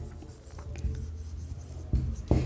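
Chalk or marker scratches and taps in short strokes while an equation is written on a board, soft rubbing sounds with a few sharper knocks, fairly close, with no speech.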